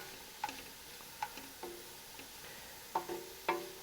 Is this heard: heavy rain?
no